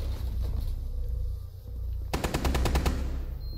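Rapid automatic gunfire in the Rainbow Six Siege video game, a tight fast burst of shots near the end following quieter game ambience and scattered distant sounds.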